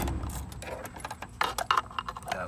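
Car keys jangling and clicking in the door lock of a 2000 Chevy Express 3500 van, a close run of metallic chinks and ratcheting taps that grows busier toward the end, with no talk.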